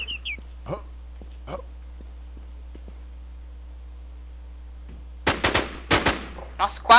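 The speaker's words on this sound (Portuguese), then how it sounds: "Olha ele me atirando aí." Gunfire in the online zombie-survival shooter Infestation, a few short sharp reports spaced out at first, then a louder cluster of shots near the end, with quiet gaps between.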